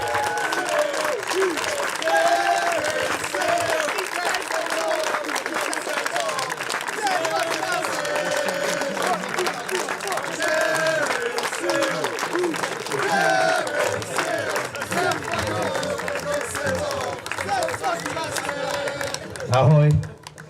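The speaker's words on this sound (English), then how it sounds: "make a huge applause for Karin Seal." A crowd at a blind football tournament in Bučovice applauds at length, steady clapping mixed with a few cheers, while voices talk over it throughout and a loud bump sounds near the end.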